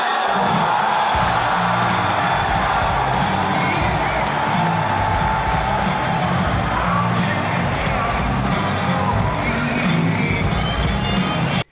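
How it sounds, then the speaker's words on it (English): An audience of troops cheers and whoops for a comedian walking out on stage, a loud, sustained roar of crowd noise with scattered shouts throughout. "Ladies and gentlemen, make some noise for Theo Von!"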